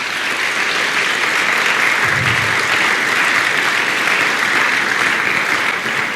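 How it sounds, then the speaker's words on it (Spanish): A church congregation applauds loudly and steadily, a dense wash of clapping hands that fills the room without pause. "Denle un fuerte aplauso a su Señor."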